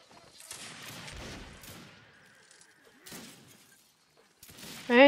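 Musket volley in Mount&Blade Warband Napoleonic Wars at a desert fort, a crackling burst of many shots fired together, followed by scattered later reports, with a voice calling orders.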